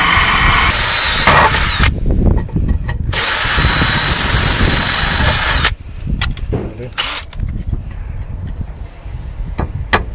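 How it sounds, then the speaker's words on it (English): A power drill, used without hammer mode, bores through a roof tile in loud bursts: a long grinding run, a short pause, another burst, then shorter intermittent spurts with rattling and handling noise between them. "So we'll just keep drilling."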